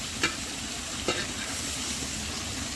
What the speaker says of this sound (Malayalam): ആ തക്കാളി ഒന്ന് വാടി വരുന്ന വരെ നമുക്ക് ഒന്ന് ഇളക്കി കൊടുക്കാം